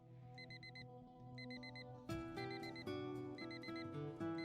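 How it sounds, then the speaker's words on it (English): A bedside alarm clock rings in repeated short bursts of electronic beeping, with a steady tonal music bed underneath that turns fuller partway through, moderately loud and close. "I turn off the alarm."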